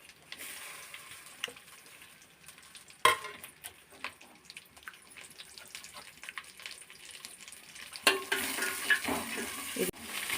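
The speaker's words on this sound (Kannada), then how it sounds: "ಇದನ್ನೆಲ್ಲ ಸ್ವಲ್ಪ ಎಣ್ಣೆಲಿ ಫ್ರೈ ಮಾಡ್ಕೊಳ್ಳೋಣ" Masala spices fry in oil in a pan for a country-style chicken chops dish, a faint low sizzle under scattered scrapes and clinks of stirring, with a couple of louder knocks.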